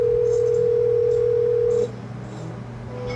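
A phone gives a single steady electronic tone that holds for about two seconds and then cuts off, leaving faint background hum.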